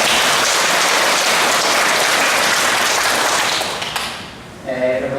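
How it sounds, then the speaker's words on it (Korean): A church congregation applauds the choir during a Sunday worship service, a loud, dense clapping that fills the room for about four seconds before thinning out and fading, with a voice rising near the end. "우리 성가대를 위해서 한번 박수해 줍니다."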